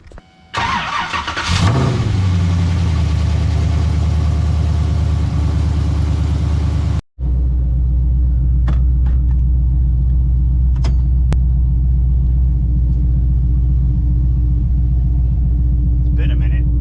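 A car engine not started in a long while cranks and catches, revs up sharply, then settles into a loud, deep, continuous rumble as the vehicle drives along.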